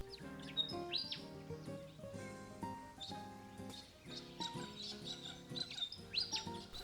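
A palm cockatoo, an Australian black cockatoo with an enormous bill from the tropics of Cape York, gives a steady series of tonal, whistle-like calls in repeated rhythmic bursts. The calls are fairly faint and carry no talk.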